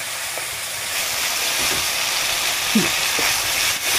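Spices frying in oil for a vegetarian cauliflower and chana dal dish, no onion or garlic, sizzling as a steady hiss with a few brief crackles and pops close by, no talking.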